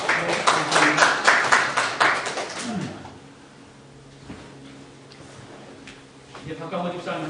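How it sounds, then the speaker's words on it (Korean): A congregation at a Sunday church service claps after a gospel album is presented, a dense burst of applause that lasts about three seconds and then fades out, with low voices murmuring underneath and talk resuming toward the end. "박수해주세요"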